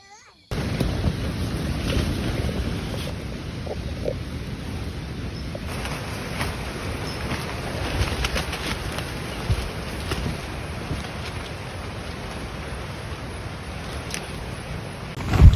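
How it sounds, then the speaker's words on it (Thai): Strong gusting wind at a mountain tent campsite at Chet Khot Pong Kon Sao in Saraburi makes a constant loud, rumbling roar that buffets the microphone, with a sharp knock at the end. "ลมแรงมากเปลี่ยนลมเลยตี5-6 นาทีแล้วยังลมแรงอยู่เลยค่ะ"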